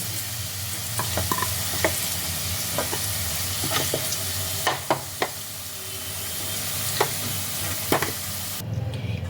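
Potatoes fry in hot oil for a vegetarian cauliflower dalna, giving a steady close sizzle with a low hum beneath and scattered sharp clinks of a utensil against the pan.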